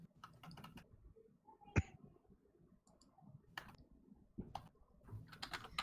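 Fingers type on a computer keyboard in quick clusters of crisp clicks and keystrokes separated by short pauses, close and fairly loud, with one sharper tap partway through.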